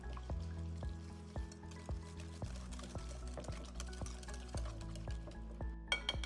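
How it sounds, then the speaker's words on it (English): Wet muffin ingredients of pumpkin puree and vanilla being whisked in a bowl, giving a steady run of soft, regular rhythmic taps and swishes, quiet and close, with no talk. "we're just gonna whisk together our wet ingredients until they're well combined"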